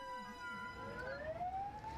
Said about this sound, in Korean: 사이렌 소리에도 차량들은 그대로 소방차 앞을 지나칩니다.